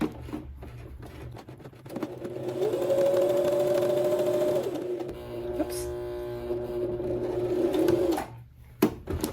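A sewing machine runs steady gathering stitches on a McCall's 7789 jumpsuit, a close continuous mechanical whir lasting several seconds with a brief pause and restart, ending in a short clunk.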